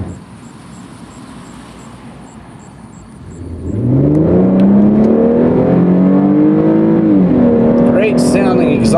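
A 2013 Infiniti G Convertible with IPL-tuned exhaust idles low, then revs up with a throaty exhaust roar that rises and holds, loud and close.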